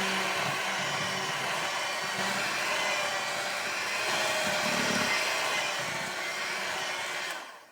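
Electric mixer whirring steadily through cake batter with cream cheese for gooey butter cakes, a loud continuous motor drone that holds for several seconds and cuts off at the end.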